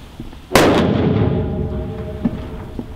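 A Thunder King firework goes off with one loud, sharp blast, followed by a long rumbling decay and a few faint pops trailing after it, no talking.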